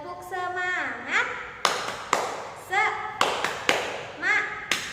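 A classroom tepuk semangat ice-breaker: sharp rhythmic hand claps in short patterned bursts, close and clear, alternating with a teacher's voice and children's chanting.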